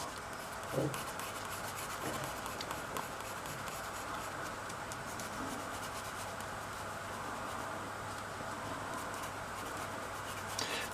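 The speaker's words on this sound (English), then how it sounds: "We're using an eraser, which is also a drawing tool." An eraser rubs back and forth across paper while shading a sphere drawing, a steady close-up scratchy friction with a few light taps and no talk.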